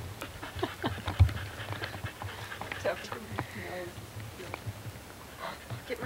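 A dog pants in quick rhythmic breaths close by, with people talking over it and some scattered handling noises.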